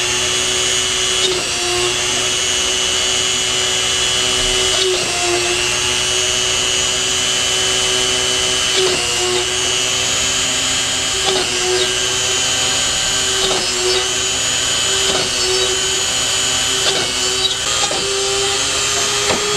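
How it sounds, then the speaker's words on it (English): A steady high-pitched drill whine runs throughout, with repeated brief bites and catches as a sharp bit cuts through a 78 RPM record, loud and close. "Got a nice sharp drill, it should be no problem at all."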